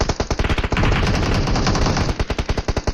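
Rapid automatic gunfire in a battle royale video game, loud and close, with bursts of dense shots fired in quick succession.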